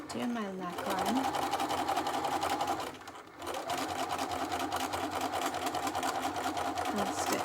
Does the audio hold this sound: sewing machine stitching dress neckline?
yes